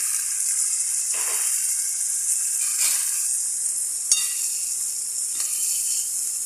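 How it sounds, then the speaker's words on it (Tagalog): Hot water poured into a pan of cooking fish sets off a steady, close sizzle, with several louder hissing surges rising and fading over the continuous frying. "At lagay na po natin yung water. Ito po hot water ito."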